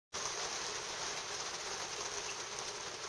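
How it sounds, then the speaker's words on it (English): Steady rain falls near a boat under repair, a dense, even hiss that starts abruptly and holds constant with no voices. "It's raining."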